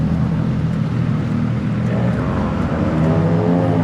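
A Kawasaki NX500 motorcycle with a split exhaust rumbles loudly and close, its deep engine drone holding steady and rising slightly toward the end, with no voices.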